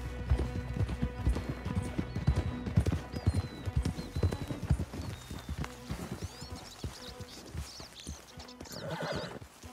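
Horses in the Red Dead Redemption 2 video game clip-clop at a steady walk, with a horse neighing partway through and faint game ambience beneath; fairly quiet overall.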